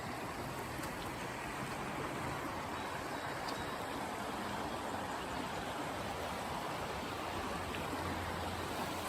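A stream flows near the Marshall Family Bridge in an outdoor park with historic buildings, giving a steady, broadband rush of water that runs unbroken and even, with no voices.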